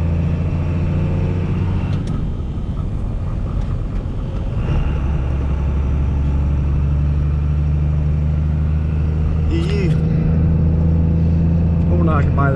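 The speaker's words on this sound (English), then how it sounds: "I always forget how rough this road is in a truck." A 1999 Dodge pickup truck drives along a rough road, with a steady loud low engine rumble and cabin noise throughout and people talking inside over it.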